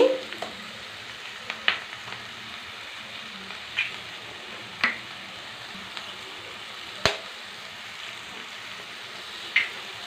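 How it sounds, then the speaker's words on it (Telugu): Three beaten eggs cook in a frying pan with chili powder, a steady soft sizzle running throughout, broken by a few sharp spatula taps and stirring scrapes; no voices. "మూడు గుడ్లు పొడుచుకున్నానండి"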